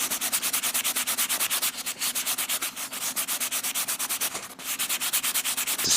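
Sanding a Bandai Macross model kit part with 400 grit sandpaper: steady rhythmic back-and-forth rasping strokes, close and fairly loud, repeating evenly throughout with no talking.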